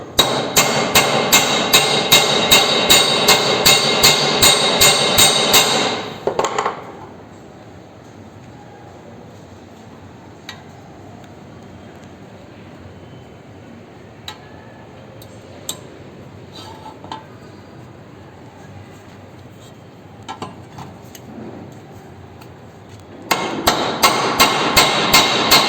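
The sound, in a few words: hammering a rivet on sheet metal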